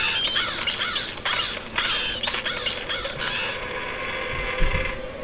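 Birds caw repeatedly in the MediEvil video game, with harsh rasping calls layered over a dense, noisy game soundscape of mechanical ratcheting and grinding, fairly loud throughout.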